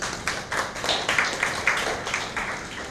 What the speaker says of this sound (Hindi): ताली बजाइए आप सृजन